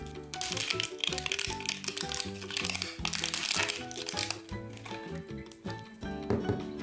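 Crinkly plastic packaging of an LOL Surprise doll being unwrapped layer by layer, with busy crackling and rustling under music.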